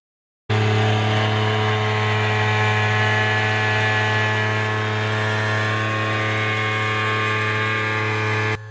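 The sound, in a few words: Ibuki goal horn blowing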